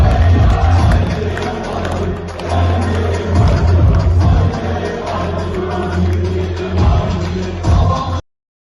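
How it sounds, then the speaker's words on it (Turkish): A crowd applauds youth branch leaders as they return to their seats at a political party gathering, with dense, sustained clapping and a few cheers filling the room until it cuts off abruptly. "ve gençlik kolları başkanımızı alkışlıyoruz ve onları alkışlarla yerlerine uğurluyoruz."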